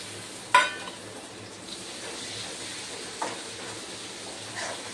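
Chopped tomato fries quietly in oil in a pan, a faint steady sizzle broken by a sharp utensil scrape near the start and a softer clink later, with no voices.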